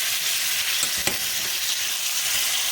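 Tomatoes sizzle steadily as they roast in a pan, with a dense frying hiss and a sharp scrape or clack about a second in, close and loud with no talking.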